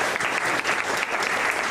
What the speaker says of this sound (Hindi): विपिन के लिए ताली बजा दो जोर से।